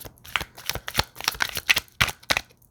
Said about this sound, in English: I guess that's the last shuffle.